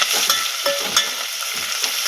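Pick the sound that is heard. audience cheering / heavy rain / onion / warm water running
onion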